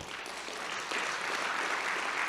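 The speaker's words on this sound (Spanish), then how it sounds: "Por favor, un fuerte aplauso." Audience applause at a stem cell medicine conference, a steady broadband clatter of many hands clapping at moderate level, swelling slightly after the first second and continuing without talk.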